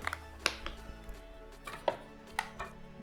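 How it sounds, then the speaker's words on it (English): Several sharp, separate cuts and scrapes of a knife slicing through packing tape on a Sony A7 IV camera box, close and fairly quiet, spaced unevenly with small handling knocks between them. "I'm going to carefully cut this tape."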